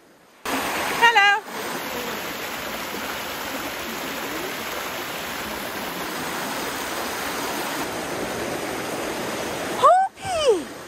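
A river rushing steadily during a hike as people cross it, a dense continuous roar of flowing water near the listener, with short bird-like calls or whistles breaking through near the start and end.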